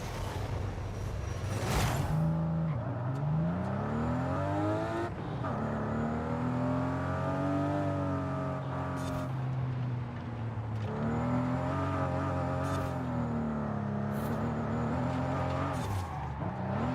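A car with a 4-speed automatic gearbox, driven in Forza Horizon 5, revs loudly and continuously with its engine pitch sweeping up and down while it drifts. No voices are heard.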